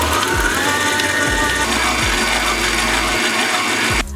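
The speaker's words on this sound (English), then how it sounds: "We install the bowl into the mixer and knead the dough." A stand mixer kneads yeast dough made with flour and oil, giving a loud, steady mechanical whir with a regular rhythmic thump from the turning hook, running continuously before cutting off abruptly at the end.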